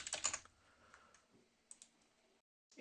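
Quiet computer keyboard typing in a software tutorial setting: a short, quick burst of close key clicks at the start, then a few scattered faint taps trailing off into near silence.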